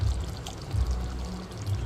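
Water pours steadily into a pan for cauliflower gravy, a soft gurgling stream with low sloshing, close by and uninterrupted.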